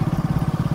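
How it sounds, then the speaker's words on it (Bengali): A vehicle engine idles just after being started, a quick, steady low chugging pulse repeating evenly, close and moderately loud, with no talking. "গাড়ি স্টার্ট করে ফেলেছি"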